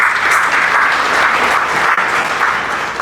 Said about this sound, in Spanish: Dale un aplauso para Cristo.